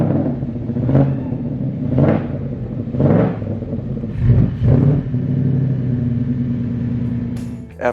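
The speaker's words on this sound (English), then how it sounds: "We installed the exhaust on the Daytona, and after that, we had to start it to hear what it sounded like." A Factory Five Type 65 Daytona coupe engine with a newly installed exhaust fires up and rumbles deeply, blipped several times into throaty rising revs before settling into a steady loud idle, close by with no talk.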